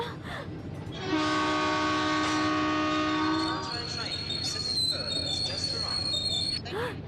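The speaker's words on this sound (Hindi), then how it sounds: "ट्रेन वापस जाने लगती है।" A train pulls out of a station with a steady rumble of rolling wheels and a long, bright horn blast that later drops to a higher, thinner whistle, loud and continuous throughout.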